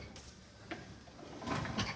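The outside kitchen compartment door of a 2022 Wildwood 178BHSK travel trailer opening, with soft latch clicks and a light rattle and thud, quiet and close.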